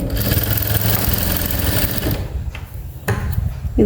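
A sewing machine runs steadily while stitching a half-shoulder blouse, a close, loud, rapid mechanical whirring that breaks off and stutters in short bursts near the end.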